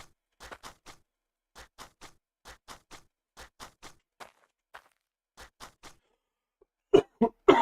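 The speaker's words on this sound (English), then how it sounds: "Sorry about all the coughing and sniffling." A person getting over COVID gives a few sharp, close coughs at the end, after a run of soft, evenly spaced ticking taps.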